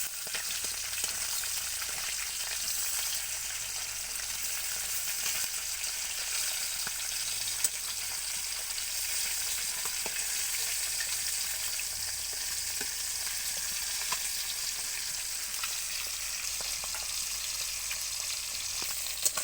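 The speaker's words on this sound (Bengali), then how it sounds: "মাছগুলো একটু ভাজা করে অন্য পিসগুলো উল্টে দেবো।" Salt-and-turmeric coated fish pieces sizzle continuously in hot oil in a pan, a dense, even crackling close by, broken by faint utensil ticks as pieces are turned, with no talking.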